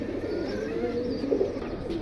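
Pigeons cooing nearby, soft low throaty calls overlapping in a steady murmur from several birds.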